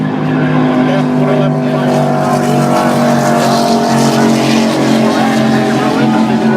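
Racing powerboats with outboard motors roar loudly through a harbor turn at the Key West powerboat races, sustained engine whine with shifting pitch, with a commentator's voice over the noise.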